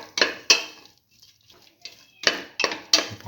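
A metal spoon clinks and scrapes against a pan while a tomato and split pigeon pea mixture is sautéed and stirred, with several sharp knocks in bursts separated by brief quiet scraping.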